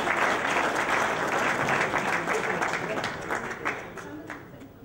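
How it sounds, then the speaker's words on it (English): Audience at a restaurant opening in Sheffield applauding a guest on stage, a dense, lively round of clapping that fills the room and gradually thins toward the end, with some voices mixed in. "Let's give him a round of applause."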